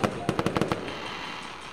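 A quick burst of fireworks sound effect: about six sharp, rapid crackling pops in under half a second, loud and close, then a fading hissing tail.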